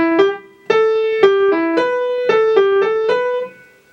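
A short piano phrase of evenly spaced quavers in a straight, unswung rhythm, clear and close, with the last note fading out.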